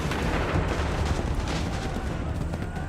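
Musket volley in Assassin's Creed 3, a line of soldiers firing on command: a loud, dense crackle of gunfire rolling into continuous booming rumble that fills the whole moment at close range.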